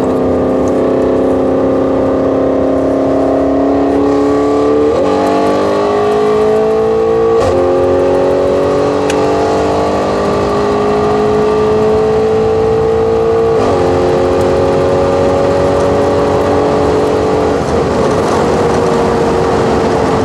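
An Audi RS6 4G with tuned engine software roars loudly and close, holding long rising revs from the rear in repeated sustained pulls with no talking.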